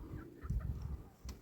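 A few soft, close clucks from chickens in a Zimbabwean village, in short bursts, with quiet background noise between them.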